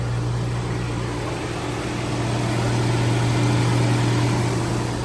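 A Jaguar V12 engine runs at a steady idle nearby, a continuous low hum and rumble with an even tone throughout and no talking.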